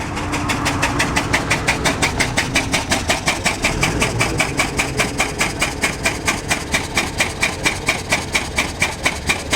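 A classic car idles at the Pebble Beach Concours, its engine loud and close with a steady, regular pulsing throb that runs through the whole stretch.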